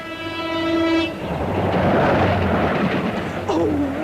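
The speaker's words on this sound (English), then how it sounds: "Even down by the sea, the trains spoil everything." Sound-effect train passing by the sea in a comedy radio play: a loud horn blast opens, then a sustained rumbling roar of wagons rolling past with a second, wavering horn toward the end, no talk.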